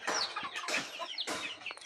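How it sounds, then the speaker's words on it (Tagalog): Chickens cluck and squawk up close in a short, busy flurry of overlapping calls while being moved to a bigger coop on a farm. "ngayon ay maglipat tayo sa mga manok doon sa bago nilang kulungan sa bukid"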